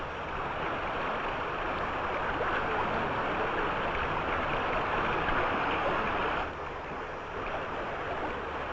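Water of the Baluchang river rushes steadily past weir gates at a hydropower construction site in Kayah state, a dense continuous roar with no voices that eases slightly for the final couple of seconds.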